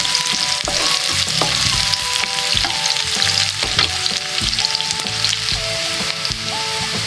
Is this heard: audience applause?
no